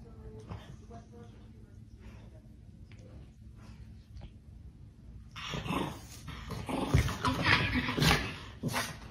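A Chihuahua on guard duty growls and yips, a low snarl rising into louder sharp barking in the second half, mixed with people talking.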